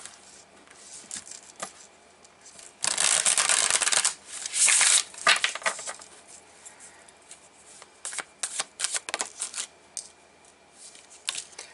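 Ink Tattoo Tarot cards being shuffled by hand, with two loud, dense bursts of riffling near the start followed by lighter, scattered card flicks and taps, close and with no talking.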